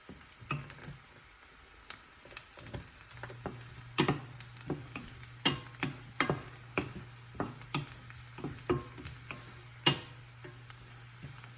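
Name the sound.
garlic frying in pan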